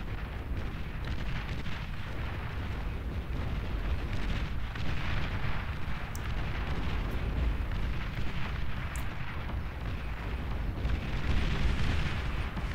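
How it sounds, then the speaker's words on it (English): Steady rumbling barrage of artillery fire and explosions during a large naval engagement in the strategy game Beyond All Reason, a dense continuous roar with scattered booms and occasional sharp high pings. "with the fire support from the artillery over here, this is actually a, a decent naval engagement"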